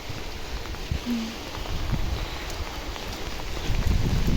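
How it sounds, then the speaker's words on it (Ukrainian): Wind blows hard outdoors, a continuous broad rushing noise with low buffeting that grows stronger toward the end. "Якби не вітер, то було б все добре. Так вітрюган такий."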